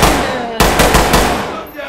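Gunfire in the tactical shooter game Ready Or Not: a loud, close burst of rapid automatic shots following a moment of background noise.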